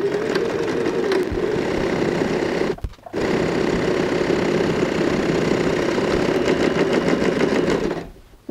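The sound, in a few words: sewing machine stitching side seams of curtain fabric tote bag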